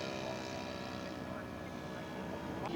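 A scale model airplane takes off at a scale aircraft show, its engine a steady, fairly loud drone throughout while an announcer talks over it.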